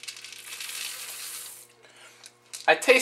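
Mini chocolate chips are poured into a cheese ball mixture, a couple of short rattling, clattering bursts near the end following a quieter stretch of soft hiss.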